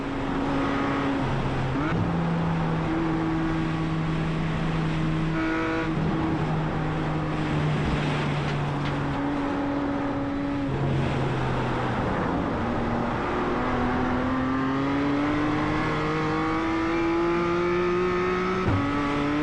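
A BMW M2 CSR race car in iRacing laps Mosport, its engine droning loud and close throughout, pitch climbing and dropping with repeated upshifts and downshifts.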